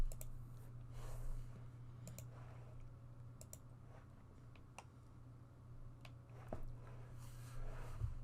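Faint, sparse mouse clicks on a map inside the Vietnam war strategy game Campaign Series Vietnam 1948-1967, scattered irregular taps over a low steady hum.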